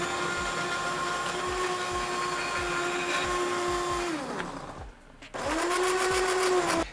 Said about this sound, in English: I'm using an immersion blender